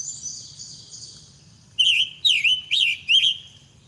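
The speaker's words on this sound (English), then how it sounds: "I've never heard of the scarlet tanager before." A scarlet tanager sings a burst of four quick, buzzy whistled phrases, clear and close, after a stretch of faint high background chirping.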